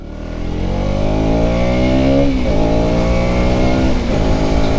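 A KTM Duke 200 motorcycle engine revs hard and climbs steadily through the gears, its loud, close, rising whine dipping briefly at each shift before pulling up again.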